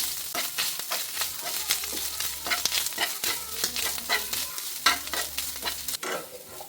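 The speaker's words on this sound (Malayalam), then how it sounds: "ഇനി ചിരണ്ടി വെച്ചിരിക്കുന്ന തേങ്ങ ഇട്ട് കൊടുക്കാം ഇനി ഇതൊന്ന് ഫ്രൈ ചെയ്തെടുക്കാം" Grated coconut fries in coconut oil with mustard seeds for a tapioca dish, giving a continuous crackling sizzle broken by repeated spatula scrapes and stirs close by.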